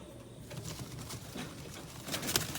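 An Indian Fantail pigeon, a young bird without a ball, coos softly among steady loft rustling and low patter, with a slightly louder moment near the end.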